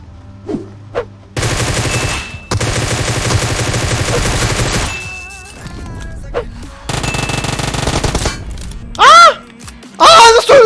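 A Groza assault rifle fires in PUBG Mobile in long, loud automatic bursts with short pauses between them, followed by a few scattered shorter volleys near the end.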